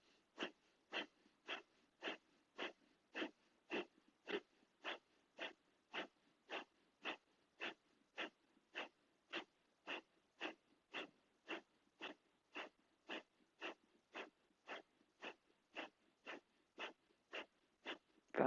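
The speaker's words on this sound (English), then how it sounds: "Breath of fire, 30 seconds." Rapid breath of fire breathing exercise from a yoga-style breathing session: a long, steady train of sharp, evenly spaced forceful nasal exhalations, about two per second, close and clear with no talking.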